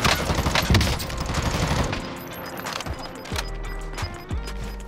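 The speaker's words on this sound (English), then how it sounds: "He's shooting at fucking Christ himself in the heavens!" Call of Duty Warzone (Cold War) gunfire, a rapid automatic burst at first that thins into scattered shots and distant impacts, fairly loud in a busy game mix.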